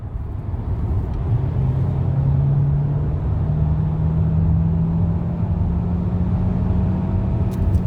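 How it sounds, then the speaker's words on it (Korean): Inside a new Kia Sorento 1.6 gasoline hybrid AWD under hard acceleration from around 80 km/h, a steady low road rumble carries an engine drone that rises gradually in pitch as the car pulls. "제가 이제 급가속을 한번 해보겠습니다. 악셀을 한번 깊이 눌러보겠습니다."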